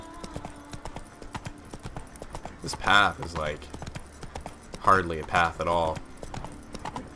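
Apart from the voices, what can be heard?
horse hooves on a path in the video game The Witcher 3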